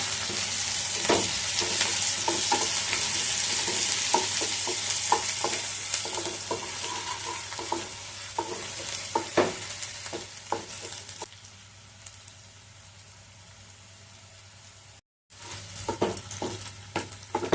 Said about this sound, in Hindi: भुन गए हैं प्याज